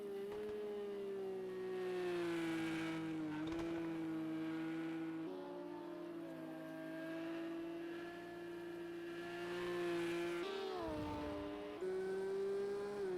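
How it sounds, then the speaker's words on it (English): Porsche GT3 race car engine in Project Cars 2 on the Nordschleife, a steady loud droning howl holding near-constant revs with brief dips at gear shifts, no talk over it. "The Porsche engine sounding rather interesting"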